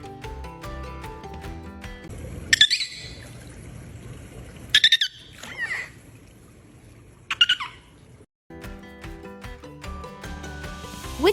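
Three short, high-pitched dolphin whistles and clicks ring out over a bed of soft background music, with a brief silence near the end.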